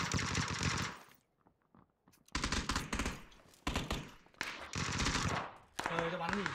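Bursts of loud, rapid machine gun fire in a video game, several long sustained volleys separated by short gaps, with a player's voice heard in the pauses.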